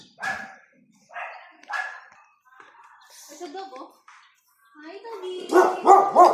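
A few sharp dog barks near the start, then voices talk and a dog yips again toward the end.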